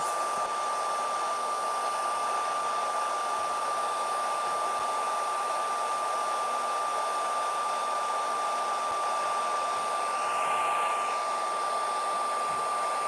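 Heat tool blowing hot air from underneath a piece, a loud, steady, unbroken whoosh that stays constant close by throughout.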